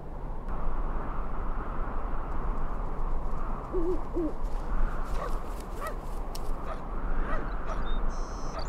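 A bird in the video game Syberia 2 gives a short pair of hoot-like calls midway over a loud, constant rushing ambient bed, followed by several faint, scattered yips and clicks.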